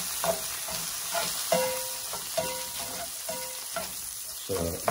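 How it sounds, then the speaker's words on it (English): A lemon butter sauce with garlic bubbles in a pan beside blistering tomatoes, giving a steady close sizzle with soft crackles and a few light utensil taps, and no voices. "we are building the lemon butter sauce with garlic right now. The tomatoes are becoming nicely blistered"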